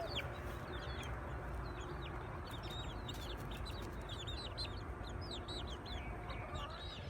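Chickens clucking in a backyard flock near a garden, a steady busy chatter of soft repeated clucks and chirps from several birds at moderate distance over a constant low background rumble.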